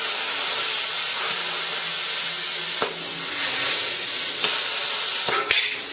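Plasma cutter with a new cutting tip cutting metal at 60 PSI, giving a continuous loud, close hiss throughout, with a few brief crackling breaks and a short sputter near the end.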